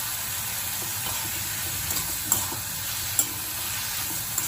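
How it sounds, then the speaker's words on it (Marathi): Bitter gourd pieces with turmeric and salt fry in oil with a continuous close sizzle. A few light clicks of stirring break through, and no one speaks. "अशी तेलामध्ये ही कारली चांगली फ्राय करून घ्यायची आहे"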